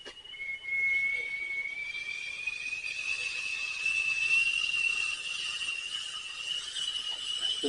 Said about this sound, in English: It's a whistling kettle